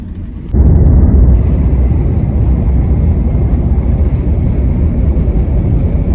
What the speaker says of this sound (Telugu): ఫ్లైట్ అయితే స్టార్ట్ అయింది